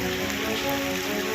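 Heavy rain pours steadily over flooded streets in Bengaluru, Karnataka, making a dense, even hiss of drops that fills the whole stretch with no voices.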